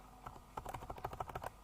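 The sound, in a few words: typing on a computer keyboard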